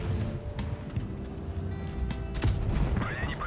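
Tank cannon shots and impacts in WoT Blitz with a Pz.Kpfw. IV Schmalturm, several sharp bursts over a rumbling engine bed, with metallic clangs toward the end.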